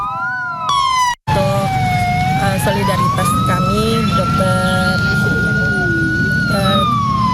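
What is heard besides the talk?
sirens of three ambulances sounding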